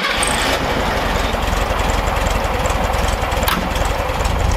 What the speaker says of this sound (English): We now start the car again, warm it back up